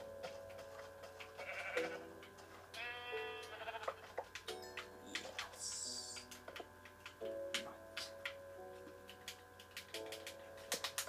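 Several synthetic sheep bleats from Minecraft on Xbox ring out over soft ticking and game sounds, spaced irregularly, clear and close with no talking.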